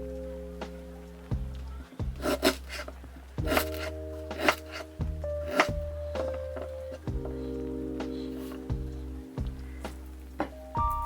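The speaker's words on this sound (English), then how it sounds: "Start by peeling about a 1-inch piece of ginger and roughly chop that into pieces." A knife roughly chops a peeled piece of ginger on a cutting board, making a series of uneven, close thunks and taps with short pauses between bursts.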